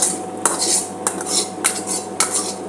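Roasted curry leaf mixture tipped from a pan onto a plate gives a series of sharp metallic scrapes and clinks of a utensil against cookware, repeated about five times at close range with no talking.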